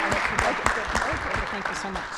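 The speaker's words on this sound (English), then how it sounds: "if everyone can give a big round of applause, please, for our panelists" Applause from the audience at a university public engagement awards ceremony, a steady moderate wash of many hands clapping with a few speech-like sounds mixed in.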